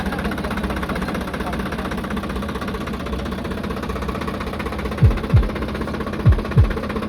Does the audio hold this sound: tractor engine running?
yes